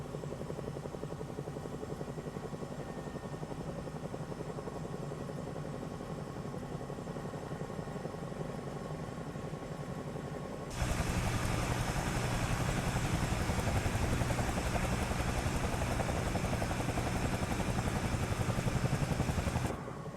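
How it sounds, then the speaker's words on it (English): A Bell 222B helicopter in Microsoft Flight Simulator 2024: rotor chop and engine drone run steadily, then jump suddenly louder and brighter midway as if the craft closes in, continuing without talk. "It's a fun little helicopter."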